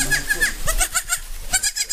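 Adult goats bleating on a farm, a rapid series of wavering, nasal bleats close by, with brief overlapping calls throughout.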